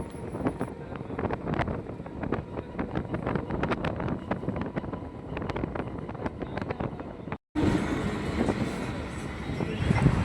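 Suburban train rolling around a curve near Lake Gardens, heard from aboard as a steady rumble with rhythmic clatter and wind noise, then a brief dropout before the noise resumes.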